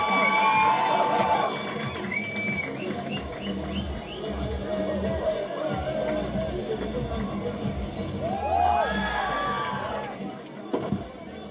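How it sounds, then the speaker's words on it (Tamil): Applause and cheering from an audience at a film first-look launch event welcoming a guest onto the stage, a dense sustained wash of clapping and voices with brief louder whoops, steady throughout and fading slightly at the end. "இன்னொரு நல்ல கைத்தட்டல் கொடுக்கலாமே ப்ளீஸ்."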